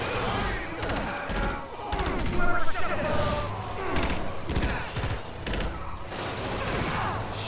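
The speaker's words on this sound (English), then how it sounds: "Shit, he's shooting at me." Enemy gunfire in Marvel's Spider-Man, repeated bursts of shots crackling over game music and effects, loud and continuous with a few heavier impacts.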